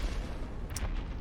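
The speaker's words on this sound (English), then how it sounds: "You might hear that thumping below, like the Asylum Demon is still walking around." Heavy thumping footsteps of the Asylum Demon moving around below in Dark Souls Remastered's Undead Asylum, a deep muffled rumbling pound under dense background noise, with no voices.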